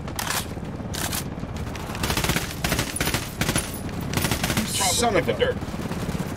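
Rapid bursts of automatic gunfire and single shots crackle in the video game Ghost Recon Wildlands, loud and dense throughout, with a player cursing over the firefight.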